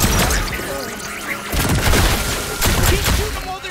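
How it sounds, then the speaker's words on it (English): Rapid bursts of gunfire and booming blasts from the video game High on Life, loud and dense in repeated volleys throughout, with game sound effects mixed in. "Keep shooting them while they're in the air."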